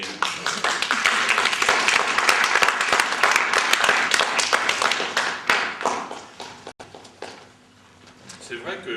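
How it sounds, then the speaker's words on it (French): An audience applauds after a music school show in Gaillard, sustained dense clapping that fills the room for several seconds before thinning out, with a voice speaking toward the end. "Vous pouvez applaudir."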